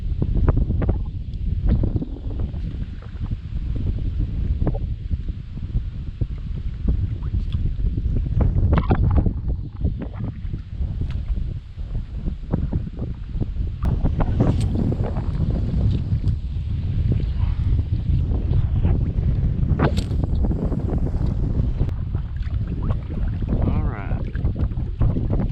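Strong gusting wind buffets the microphone while kayak fishing in a marsh, a loud, continuous low rumble with surging gusts and occasional rustling, and faint talk mixed in.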